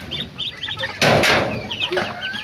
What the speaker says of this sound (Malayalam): അല്ല തള്ളക്കോഴി ഉള്ളപ്പോ കൊത്തില്ല.